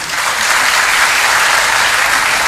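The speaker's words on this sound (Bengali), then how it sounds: "হাততালি দেওয়ার কিছু নেই" An audience at a Bengali spiritual talk by Swami Sarvapriyananda breaks into dense, steady applause, loud and close, with no voices over it.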